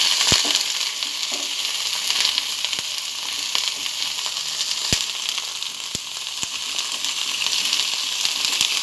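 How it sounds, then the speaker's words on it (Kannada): Tomato chutney ingredients fry in a pan with a dense, continuous sizzle, punctuated by a few sharp clicks and taps of a spoon against the pan, close and loud throughout. "ಇದೆಲ್ಲ ಚೆನ್ನಾಗಿ ಫ್ರೈ ಆಗಬೇಕು."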